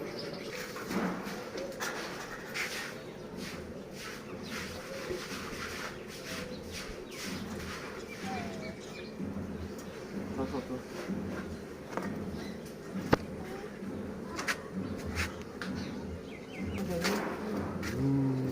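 Birds cooing and chirping near a cage, with rustling and a busy background mixed in; voices are faintly present.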